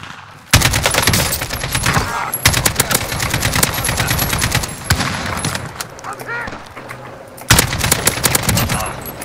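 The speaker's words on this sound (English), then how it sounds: "Taking direct fire!" Sustained automatic gunfire in Call of Duty rattles loud and near in long bursts separated by short gaps, with a quieter stretch midway before another sharp volley, as players talk over the action.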